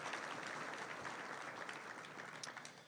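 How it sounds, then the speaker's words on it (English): Applause for a board of directors at a chamber of commerce dignitary discussion, a steady spread of clapping from a seated audience, fairly faint and distant throughout. "Please join me in giving the Board of Directors a round of applause."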